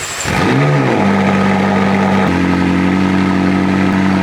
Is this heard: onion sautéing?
no